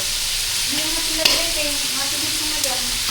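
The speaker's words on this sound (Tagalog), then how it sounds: "Prito na ni Buntis. Ayan na ang talong." Eggplant frying and sizzling in a home kitchen pan with light stirring, a steady crackle running throughout, one sharp clink near the middle.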